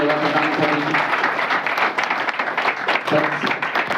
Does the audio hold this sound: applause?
yes